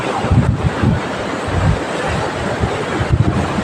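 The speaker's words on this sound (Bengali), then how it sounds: "কেমন ঢেউ দিচ্ছে আজকে।" Sea waves surge and wash in at Udaipur Beach, Digha, with a low rumble, mixed with gusty wind buffeting the microphone in uneven bursts.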